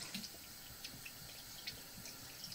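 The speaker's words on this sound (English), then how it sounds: "I'll wash off the stone." Water from a tap runs steadily and faintly over a sharpening stone, a soft continuous rinse with small splashes and drips.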